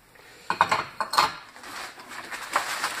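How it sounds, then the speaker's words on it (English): A stack of ceramic dishes handled up close, with a few sharp clinks and clatters as plates knock together in quick bursts, then lighter scraping contact. "Got a stack of dishes here."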